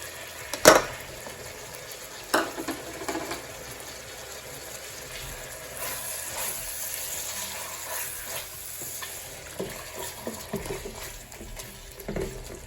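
Chicken bharta with chopped green chilli is roasted and stirred in a pan, a soft ongoing sizzle broken by a few sharp clinks and scrapes of the spoon against the pan.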